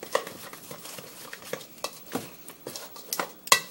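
Sesame seed paste mixture being stirred in a bowl, a series of scattered scraping and clinking strokes at irregular intervals, close and fairly soft, with one sharper knock near the end.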